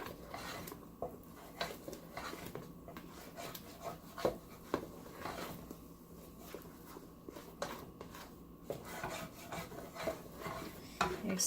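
Crispy rice cereal being stirred into a melted mixture in a pot on the stove, a quiet rasping, scraping rhythm of spoon against pot and crackling cereal, close and steady with no talk.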